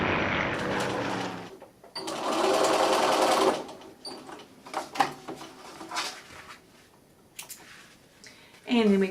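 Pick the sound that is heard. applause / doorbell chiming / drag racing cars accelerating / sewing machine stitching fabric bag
sewing machine stitching fabric bag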